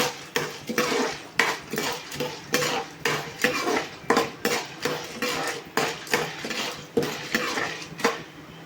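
Popcorn kernels are stirred in hot oil in a pot, a rhythmic metallic scraping and rattling of the utensil against the pot, repeating about twice a second up close.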